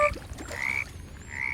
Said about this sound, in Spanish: Las ranas.